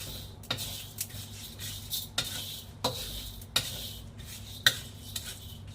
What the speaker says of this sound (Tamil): இது எல்லாமே லோ ஃப்ளேமில் தான் வறுக்கணும்